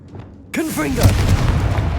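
A Confringo blast spell erupting in the video game Hogwarts Legacy, a sudden loud boom after near silence, with a shouted voice over the rumbling aftermath.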